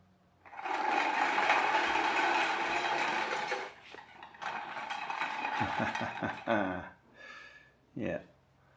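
A small motor-driven mechanism whirs and rattles up close during its first test run, stopping and reversing in short bursts toward the end while people talk nearby.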